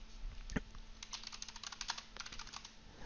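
Quick, light keystrokes patter on a computer keyboard as a message is typed, a close, quiet run of irregular clicks with one heavier tap near the start, alone without speech.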